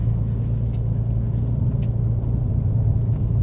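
Porsche 911 Turbo S cruising gently along a bumpy, narrow two-lane road, heard as a steady low in-cabin engine and road rumble with faint occasional knocks, no talking.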